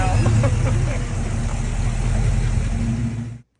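A 1969 Oldsmobile Cutlass with a T-350 transmission and an upgraded torque converter roars through a burnout, its loud engine droning steadily up close before cutting off abruptly, with voices faintly mixed in.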